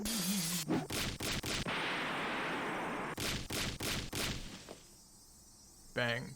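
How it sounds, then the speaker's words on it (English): Door-banging sound effect from the Higurashi When They Cry visual novel: a burst of three rapid, loud bangs, then a second burst of four, over a steady background tone, with a brief vocal sound at the start and end. "Shion banged on the door."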